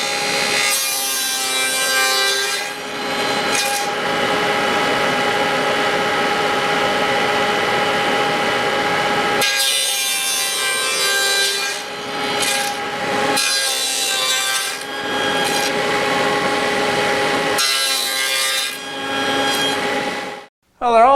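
A handsaw cutting through wood for storage boxes, steady back-and-forth strokes loud and close, in long runs separated by brief pauses, ending with a sharp clatter.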